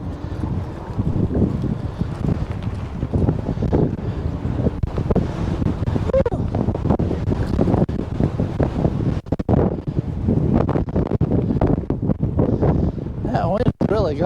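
Strong wind roars steadily into the microphone during a bike ride along a wide sidewalk in Missouri in early spring, a constant loud buffeting that masks people talking underneath.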